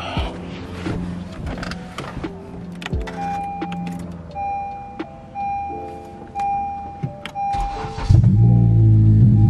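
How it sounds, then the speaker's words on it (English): A car engine cranks and starts, with faint clicks and electronic chimes beforehand, then the engine catches loudly near the end and settles into a steady close rumble. "start the car and see what it does"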